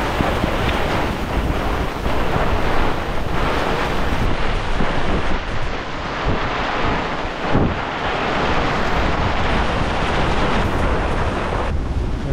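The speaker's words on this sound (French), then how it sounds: "Et là, voilà, le grain." A squall drives wind across a river in Gambia, with loud continuous roaring gusts and rushing water buffeting a boat, steady and unbroken throughout.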